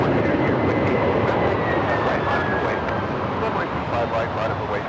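A UPS heavy cargo plane takes off from runway 25 right at LAX, its broad jet engine roar loud and steady, with a faint radio voice under it.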